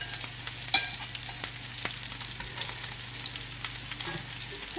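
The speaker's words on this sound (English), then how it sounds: "we will just let them brown on this one side for a few minutes until they're nice and golden on that one side" Chicken and bacon squash patties fry in a single pan with a steady, crackling sizzle and scattered small pops, close and even throughout, with no one talking.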